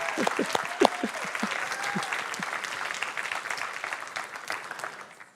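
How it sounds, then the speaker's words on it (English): An audience applauds steadily at a talk in a congregation setting, dense clapping filling the clip at moderate volume, with a few scattered voices and cheers early on before it gradually tapers near the end. "let's give them all a round of applause, shall we?"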